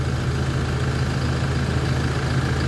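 Car engine fitted with an AFE Momentum GT cold air intake and a full HKS exhaust system, running as a steady, loud continuous drone with no clear rev rise across a couple of seconds, alone without voices.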